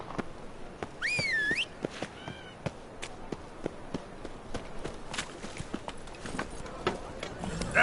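Roach, the horse in The Witcher 3 video game, gallops with a quick run of hoof clops under faint game ambience, while a whinny rises briefly near the start and a voice speaks quietly.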